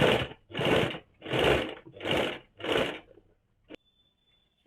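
A sewing machine runs a second seam over a marked design line on a kaftan nightie, five short close whirring bursts separated by brief pauses, followed by a quiet click and near silence.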